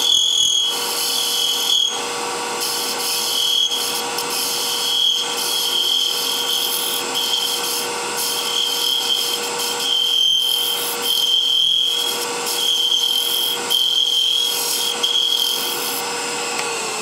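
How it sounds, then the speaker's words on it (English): A tool on a wood lathe shear-scrapes a hollow wooden sphere, a continuous harsh rasping scrape with a high whine. It pulses with the spinning, loud and close throughout, and nobody speaks. "I'm gonna do that with shear scraping."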